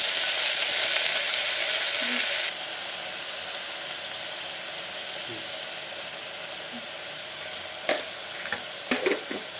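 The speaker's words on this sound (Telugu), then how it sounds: "అవి దోరగా వేగిన తర్వాత టమాటా 2 కట్ చేసి సన్నగా వేసుకోవాలి" Curry leaves and green chillies fry in hot oil, a loud dense sizzle that drops sharply partway as chopped tomatoes go in, followed by a quieter simmering hiss with a few scattered clicks of a spoon against the pan.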